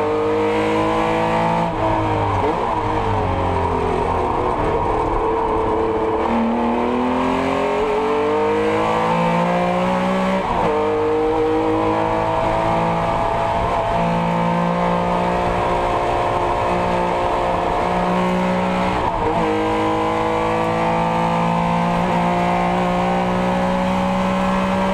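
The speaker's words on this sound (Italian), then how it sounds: "Mario Massaglia, su Osella PA3 BMW del 1975, nella gara di casa ha vinto il ter" A 1975 Osella PA3 BMW race car climbing the Cesana-Sestriere hill in a historic hillclimb, its engine screaming loudly through repeated rev rises and sharp gear changes, held near and continuous throughout.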